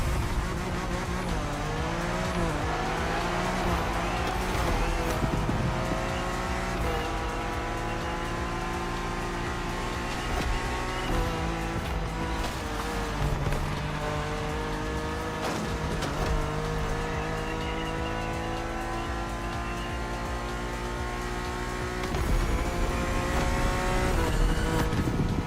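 Race cars roaring through a race in the video game The Crew Motorfest, with continuous loud engine whine climbing and dropping through gear changes and occasional tire squeal, no talking.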